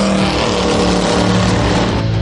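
A powerful Lamborghini engine roars steadily and loudly, a dense continuous exhaust drone with no pauses or voices.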